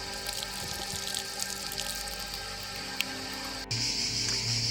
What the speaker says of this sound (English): At Hadrian's villa, Audrey loved playing in the fountain.